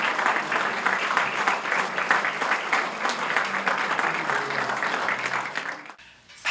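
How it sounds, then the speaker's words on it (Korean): An indoor audience at a book launch ceremony for a memoir claps together in sustained, dense applause. It stays loud and steady for several seconds, then fades abruptly near the end. "오늘 봉정에 올릴 때 힘찬 축하의 박수를 올려주시면"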